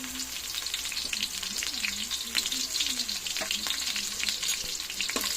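Garlic and onion frying in a pan give a loud, continuous close-up sizzle, with occasional light clicks and scrapes from stirring.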